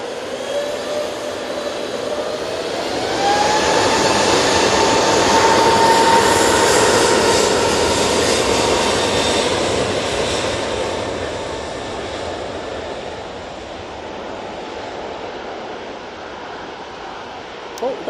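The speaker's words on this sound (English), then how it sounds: "Another air tanker over here as well." An air tanker aircraft passes at Manchester Airport, its jet engine roar building over several seconds with a rising whine, then slowly fading into a long distant rumble.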